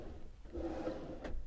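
A soft-close drawer in a small RV closes in one quiet, short slide and muffled thud, with faint ambient rumble around it.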